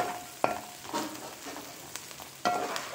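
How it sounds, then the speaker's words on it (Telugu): Cleaned dried shrimp frying in oil with onions and green chillies, a soft continuous sizzle close by, broken by a couple of sharp spoon clinks against the pan. "ఉల్లిపాయలు పచ్చిమిరపకాయలు నూనెలో యాగనిచ్చి శుభ్రం చేసుకున్న ఎండు రొయ్యలు వేసాను."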